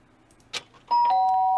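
A two-tone doorbell chime rings out clearly in the Danganronpa video game, with a sustained ding-dong tone following a short knock-like sound, then a fresh strike at the end.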